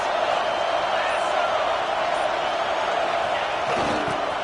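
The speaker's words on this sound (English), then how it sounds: "this crowd is at fever pitch" A dense, steady crowd roar fills a football video game stadium during a third-down red zone play, continuous and loud without pauses.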